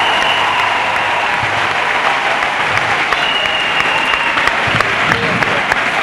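Sustained applause from a church congregation praising Jesus Christ, thick continuous clapping at a loud, even level, with scattered voices and cheers mixed faintly beneath it.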